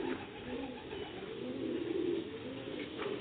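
Sialkoti pigeons, including a fine-necked bird, coo in soft, repeated rolling calls close by, a steady murmur of cooing with no talk over it.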